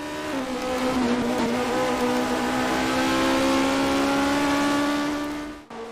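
A 1979 Formula-style Ferrari race car engine in rFactor 2 at the Österreichring screams at a steady high pitch, loud and close, holding its note for several seconds before a brief dip near the end.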